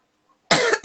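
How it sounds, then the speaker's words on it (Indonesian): A single sharp cough bursts out after a moment of near silence, followed by the start of another cough. "Efek kehujanan jadinya batuk."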